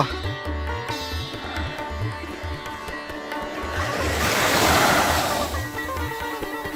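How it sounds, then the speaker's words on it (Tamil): Ocean waves crash against rocks at Gokarna beach, a loud surging wash that swells to a roaring break midway, with a low rhythmic thumping underneath. "ஓ, அலை அடிக்கிற சவுண்டே அழகுங்க"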